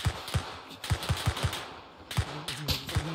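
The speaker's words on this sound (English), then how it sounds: "I dropped a whole magazine into him." Rapid automatic gunfire in a World War II video game set in North Africa, a whole magazine emptied in quick repeated shots with punchy low thumps, loud and close, with no talk.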